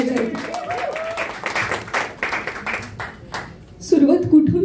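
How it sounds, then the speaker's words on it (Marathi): An audience at a film trailer launch applauds the cast, scattered claps heard near and moderately loud, with a host's voice speaking over them. "सो या सगळ्या कलाकारांसाठी जोरदार टाळ्या झाल्या पाहिजेत."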